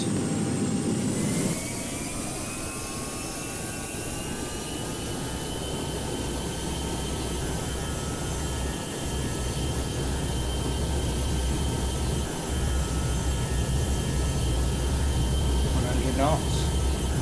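Virgin A330-900neo jet engines spooling to full thrust on takeoff in the GeoFS flight simulator game, a steady loud roar with a rising whine that holds for the whole stretch.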